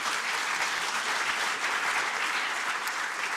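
A seated audience at a memorial tribute claps steadily and densely, a full, even wash of applause with no voices standing out.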